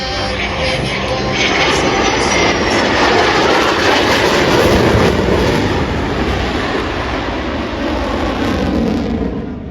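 A jet performs the Cobra maneuver at an air show, a loud, continuous engine roar that swells and holds before easing slightly toward the end.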